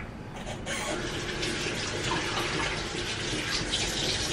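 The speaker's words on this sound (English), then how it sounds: "let me wash my hand" Tap water running steadily while hands are washed, a continuous moderate hiss and splash that holds throughout, no voices.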